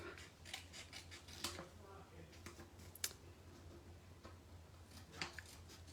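Scissors trimming excess paper during card making, heard as a series of quiet, crisp snips and clicks spread unevenly across a calm room.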